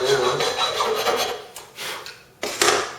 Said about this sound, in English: I'm just going to use probably a medium to coarse grade file. This is brass, so it should come off real quick.